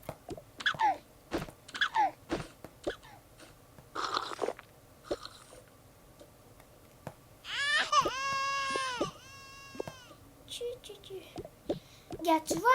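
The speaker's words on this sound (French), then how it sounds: "Il pleure toujours." A child character crying in the Toca Boca video game, short wailing sobs mixed with bursts of clicks and game effects, plus one sustained cry in the middle, with someone talking between sounds.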